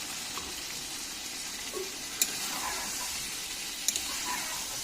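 Goat meat and potatoes sizzle steadily in a pan, a continuous frying hiss with a couple of brief sharp clinks of a utensil; no talk.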